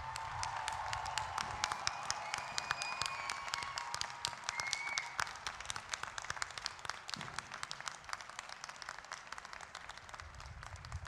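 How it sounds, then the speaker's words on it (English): Crowd applause for the graduates at the New Mexico Tech 2022 commencement ceremony, a dense, steady clapping that fills the full eleven seconds at moderate loudness, with faint background sounds mixed in. "So let's give them all a big round of applause."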